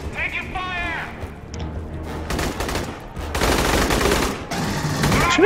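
Machine gun fire in the video game Aliens: Colonial Marines, with rapid bursts of gunshots in several stretches mixed under excited players' voices.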